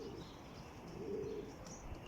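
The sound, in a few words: wild birds calling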